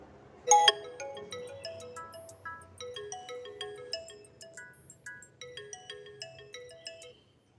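A phone rings for a listener calling in to an Indonesian radio talk show: a sharp electronic tone opens it, then a melodic ringtone pattern repeats steadily for several seconds, clear and fairly close, with no talk over it.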